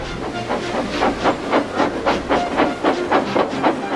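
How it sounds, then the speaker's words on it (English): Rhythmic bursts of steam hiss chuff from an engine, loud and steady, about eight puffs in a regular beat over a low rumble. "with much noise and blowing of steam"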